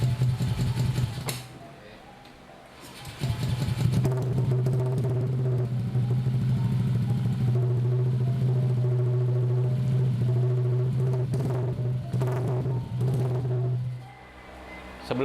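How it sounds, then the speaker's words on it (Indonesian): A 2021 Honda Scoopy scooter with an aftermarket free-flow exhaust idles with a steady, buzzing putter. It dips briefly and rises again, holding a mild, even drone close by. "Suaranya juga masih manusiawi lah, walaupun spek knalpotnya bebasan gini."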